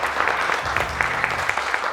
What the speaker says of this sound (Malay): Kita berikan mereka tepukan, boleh tak?